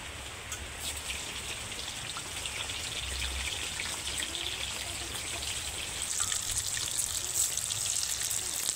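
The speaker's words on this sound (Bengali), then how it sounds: "তো শুধু হলুদ মাখিয়েই কিন্তু আমি তেলে ভেজে নেব পটলগুলোকে" Turmeric-coated pointed gourd pieces fry in a generous amount of hot oil, giving a steady, even crackle and sizzle at moderate loudness throughout.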